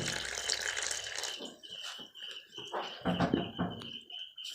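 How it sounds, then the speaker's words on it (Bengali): Water poured into flour, salt and refined oil while mixing paratha dough for Mughlai paratha, a close splashing trickle in short uneven bursts with clinks and rustles of handling. "জল দিয়ে দিচ্ছি"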